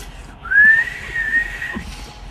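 A person whistles two short, rising tones, faint and breathy, separated by a brief pause against a quiet background.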